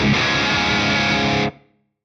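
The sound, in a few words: Mesa Boogie style amp guitar tone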